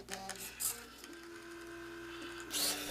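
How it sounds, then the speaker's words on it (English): A homemade servo-driven Turing machine moves a marker along a tape, giving close whirring servo buzzes and mechanical ticks with short motor bursts at the start and the end. "The marker is moved in the y-axis with a servo."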